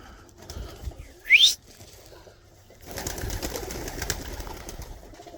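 Tippler pigeons in a loft give a short, loud call, followed by soft rustling and flutter-like noise from the birds nearby.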